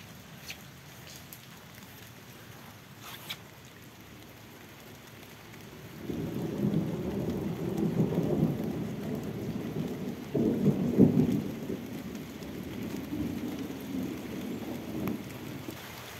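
A summer tropical downpour in the Moscow region with thunder, a low rumbling wash of heavy rain and thunder that builds suddenly partway through, swells again, then eases, with faint sharper sounds early on.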